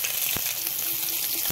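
Pomfret fish frying in oil seasoned with turmeric and salt, giving a steady, close hiss of sizzling with a few faint pops and stirring touches throughout.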